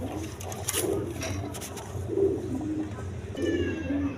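Farm pigeons kept with their eggs and chicks coo in several soft, low bursts spread across the stretch, near and fairly clear over a steady background hum.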